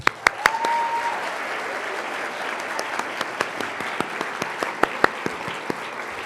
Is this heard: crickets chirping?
no